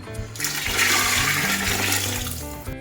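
A continuous gush of water pours into a pot of vegetable biryani for a few seconds, loud and close, with no talking.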